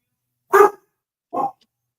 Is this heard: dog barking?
yes